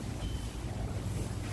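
Strong wind blows outdoors on a wild, windy day, with steady low rumbling gusts buffeting the microphone throughout.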